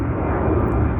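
A commercial airplane passes overhead at night above townhomes, a loud, continuous broadband engine roar that holds steady for the whole moment without any voices.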